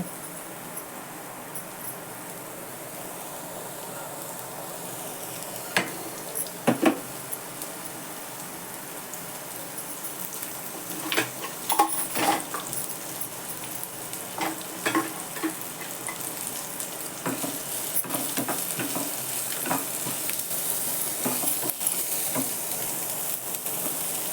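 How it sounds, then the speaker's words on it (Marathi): Onion and coconut roasting in a little oil for a masala paste for a wet cashew curry, a steady soft sizzle with scattered crackles and occasional stirring scrapes, moderately close and heard alone. "वाटणाला कांदा खोबरं भाजून घेते तेल घालते थोडं"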